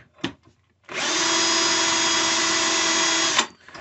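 RCBS 3 Way Cutter Head trims a .223 brass case in one steady, loud whirring burst of about two and a half seconds, with a few brief clicks of handling before and after.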